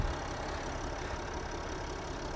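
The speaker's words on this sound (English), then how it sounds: "under the hood again, as I mentioned earlier, you got a 3-liter turbo diesel" The 3-liter turbo diesel engine of a 2022 Winnebago Revel idles with a low, even, steady rumble and hiss, heard faintly and continuously with no change in pace.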